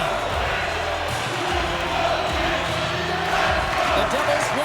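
A hockey arena crowd in the NHL 25 video game roars in a dense, steady wash of cheering throughout, loud and continuous, with faint low thuds beneath it.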